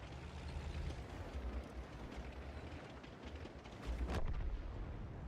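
A tank is hit and destroyed in the World of Tanks video game, with dense rumbling battle noise throughout and a heavier blast near the end.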